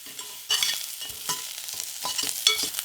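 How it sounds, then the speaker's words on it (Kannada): Onion frying in a pan over a low flame, a gentle crackle broken by several distinct stirring scrapes and clatters, close and fairly quiet with no voices. "ಸ್ಟವ್ನ ಲೋ ಫ್ಲೇಮ್ನಲ್ಲಿ ಇಟ್ಕೊಂಡು ಹುರ್ಕೊಳ್ಳಿ."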